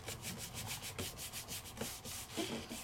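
Rubber stamp pressed onto paper and rubbed across its back by hand during card-making, a soft, steady brushing friction in repeated short strokes, fairly quiet with no voices.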